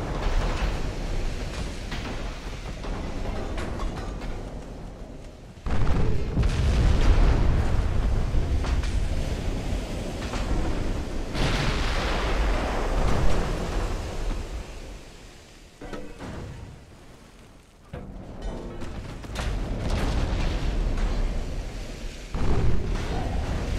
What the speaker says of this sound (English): So much firepower coming at me.